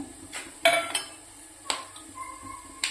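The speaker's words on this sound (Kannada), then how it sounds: "ಹಸೆ ಮೆಣಸಿಕಾಯಿನೂ ಸಣ್ಣ ಸಣ್ಣ ಪೀಸ್ ಮಾಡಿ ಕಟ್ ಮಾಡಿ ಹಾಕೊಳಕತ್ತೀನಿ" Green chillies are cut into small pieces for a radish palya. A handful of sharp, separate knife taps and clinks sound close by, with short quiet gaps between them.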